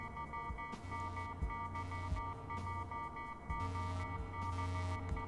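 In the video game Lobotomy Corporation, an alarm pulses in repeating bursts with a droning, throbbing tone beneath it, steady and moderately loud with no talking.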